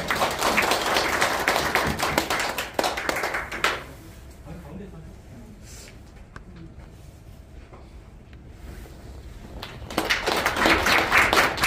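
Applause for a vice-president's congratulatory address at a district education policy forum in a Korean ward office: a burst of clapping from the seated audience at the start, a quieter stretch, then clapping swelling again near the end.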